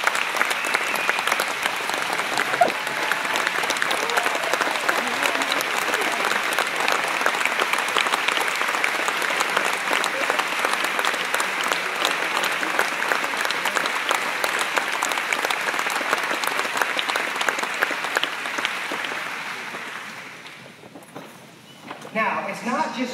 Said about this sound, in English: I think we owe them a major, major applause.